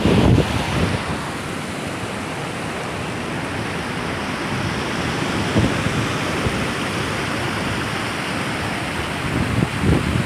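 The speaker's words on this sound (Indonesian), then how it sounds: "Ombak datang, ombak datang." Ocean waves surge onto Kuta beach in Bali during a high tide swell, a loud continuous roar of surf mixed with wind buffeting the microphone, with no voices.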